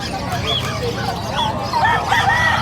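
Native chickens cluck and call nearby at a pets and livestock market in Bocaue, with a rooster's crow rising among overlapping bird sounds against a noisy outdoor background.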